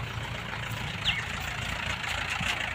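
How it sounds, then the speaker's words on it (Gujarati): A tractor engine idling nearby at a farm cowshed, a steady low rumble that holds even throughout, with a faint chirp over it. "જો હવે બીજું ટ્રેક્ટર પાછું આવી નાખ્યું"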